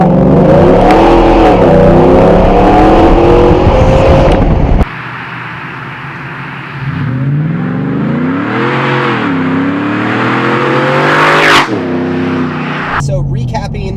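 A 2017 Roush Nitemare truck engine roars loudly as it accelerates 0 to 60 through rising gears, the pitch climbing and dropping with each shift, heard from inside.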